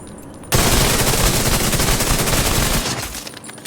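Burst fire from FAMAS and ACR rifles in Division 2 starts abruptly and loudly as a dense rapid rattle lasting over two seconds, then cuts off, with no speech.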